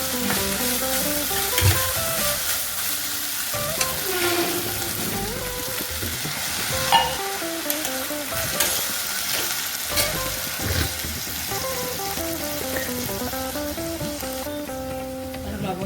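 Turmeric-spiced food frying in a pan while being stirred, a steady close sizzle with scraping and utensil clinks running throughout.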